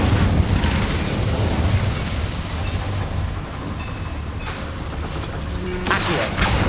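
Incendio cast in Hogwarts Legacy: a heavy, continuous fiery rumble rolls on at close range and dips slightly midway. A sharp whooshing burst swells up just before the end.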